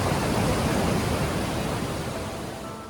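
A steep village stream rushes in a constant, dense wash of water noise, close and loud, easing slightly toward the end with no voices.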